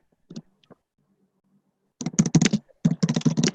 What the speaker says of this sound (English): I guess Elena is typing one out